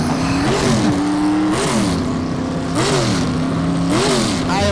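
Pro Street drag racing trucks at Newport Raceway's no-prep event roar loudly and continuously, their engines repeatedly rising and falling in pitch as they rev and accelerate up close.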